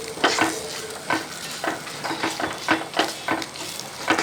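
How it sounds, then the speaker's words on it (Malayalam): Steady frying sizzle with repeated rhythmic scrapes of a spoon stirring through the pan, close up. "ഇതെല്ലാം കൂടെ കൂട്ടി ഒന്ന് ഇളക്കി കൊടുക്കുക"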